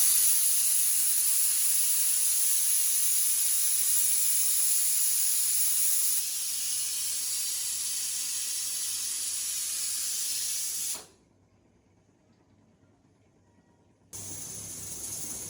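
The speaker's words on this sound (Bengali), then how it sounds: "মাংসের 4টা সিটি দিছি" A pressure cooker hisses with steam while meat cooks in a village kitchen on Eid. The hiss is loud, steady and close, drops slightly partway through, stops for about three seconds, then starts again.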